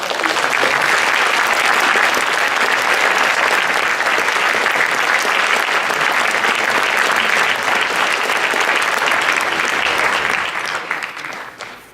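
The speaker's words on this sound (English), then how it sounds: "Let's have a round of applause for all 44" A high school auditorium crowd claps for 44 new National Honor Society members, loud, dense, sustained applause lasting about ten seconds before fading out quickly.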